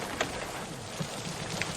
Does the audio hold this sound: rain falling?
yes